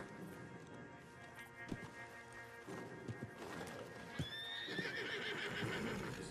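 Horse in the Western video game Red Dead Redemption, with a loud whinny and steady clip-clop of hooves close by, over game ambience and background music.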